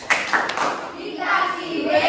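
Classroom group of pupils doing a rhythmic 'tepuk wow' clap, a few sharp claps near the start followed by chanting voices, close and fairly loud.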